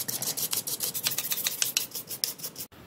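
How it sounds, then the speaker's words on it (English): An old toothbrush scrubs surface dust off a laptop cooling fan in quick, close, rhythmic bristle strokes, a dry raspy brushing that repeats steadily and then stops sharply. "Then I used an old toothbrush to remove surface dust."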